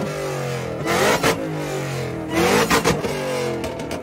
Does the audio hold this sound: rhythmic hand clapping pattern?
no